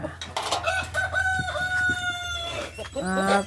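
Laying hens cluck and a rooster crows nearby as they are fed vegetables, several overlapping calls close up, with some background noise.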